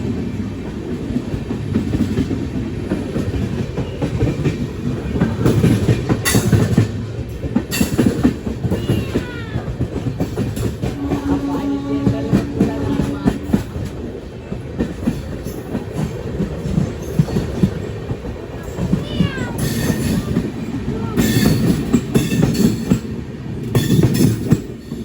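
An Amrit Bharat Express passenger train runs on rails, a loud continuous rumble with rhythmic clickety-clack of wheels over joints and occasional brief squeals, steady throughout.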